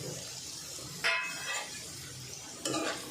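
Peanuts roast in a pan with onion and green chili for kande pohe, a soft sizzle broken by two brief scraping stirs of the spatula against the pan.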